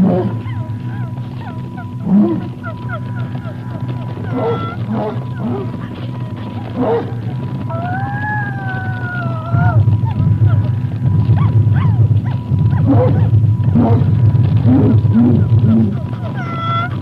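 In a dark David Lynch film scene, a voice imitates dog barks: a string of short, gruff yelps and growls, joined midway by a rising, wavering tonal cry over a steady low drone.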